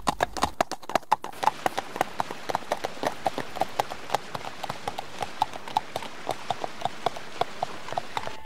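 Hunters' horses in a cartoon, their hooves clip-clopping in a steady, brisk rhythm of many crisp, evenly spaced hits, near and clear with no talk.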